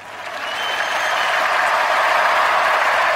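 A crowd at a tech presentation bursts into dense applause that swells over the first second and then holds loud and steady to the end.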